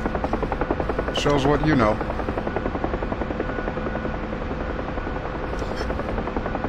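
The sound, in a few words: UH-1H Huey helicopter in DCS World video game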